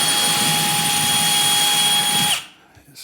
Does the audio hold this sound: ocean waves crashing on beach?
no